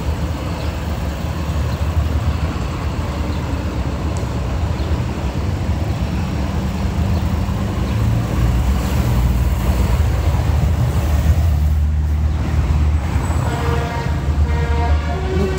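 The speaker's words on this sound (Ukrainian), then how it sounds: "ми вже бачимо, що вже ну, десятки тракторів проїхало" Tractors rolling past during a farmers' protest in Brussels, a continuous low engine rumble and road noise that holds steady at close range, with traffic sounds filling the street.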